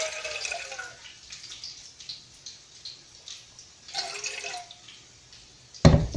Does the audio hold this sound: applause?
no